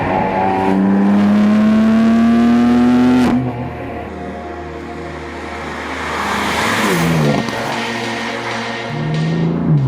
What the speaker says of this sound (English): I was always a big fan of the sound from the straight line BMW 6-cylinders